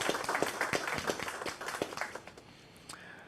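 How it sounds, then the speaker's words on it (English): Audience applause at a capacity-building session of a governance forum, a brisk patter of clapping that is loudest at the start and thins out toward the end with no talk over it. "give him a round of applause"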